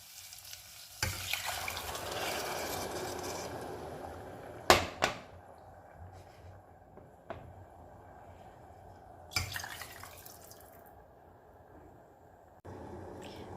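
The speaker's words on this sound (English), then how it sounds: "So I'm just giving that a little bit of a stir, and then I'm just going to leave it boiling like this" Rice and vegetable broth being stirred in a pot on the stove, with a steady simmering hiss and a few sharp clinks of the spoon against the pot.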